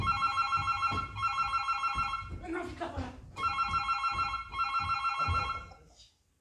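A telephone rings indoors in repeated electronic trills, loud and close, with a short gap before it resumes, while a voice speaks briefly over it.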